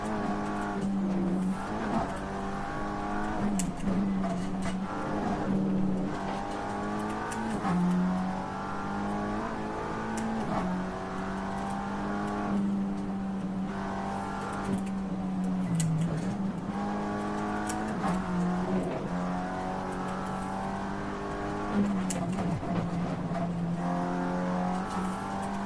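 Race cars, one of them a Porsche, run on the Nordschleife, engines droning and rising and falling as they rev and shift, steady and fairly loud for the whole stretch with no talk.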